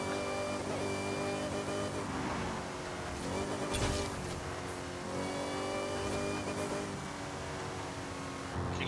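A Dodge Challenger Super Stock engine in Forza Horizon 5 whines and revs steadily, loud and continuous with synthetic game-like tone, a brief surge in pitch midway.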